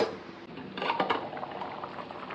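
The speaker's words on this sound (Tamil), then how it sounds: "தண்ணி நல்லா கொதிச்சிட்ருக்கு." Water boils in a pot with rice for ghee rice, giving a steady bubbling hiss with a few light clinks, no voices.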